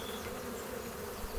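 Honey bees buzzing around an open beehive during a beekeeping inspection, a steady dense droning hum at close range with no talking.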